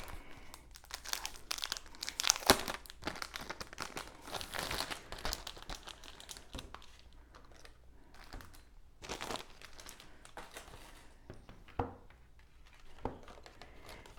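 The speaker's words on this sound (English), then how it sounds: "we're going to do a quick flip through of the sticker book" Pages of a paper sticker book flipped quickly, giving a run of close crinkling, rustling and sharp paper snaps at an uneven rhythm, with no talking.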